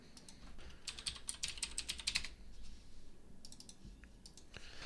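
Fingers type on a computer keyboard in quick bursts of close, crisp clicks, pausing briefly before another scattered run of keystrokes, with no talking.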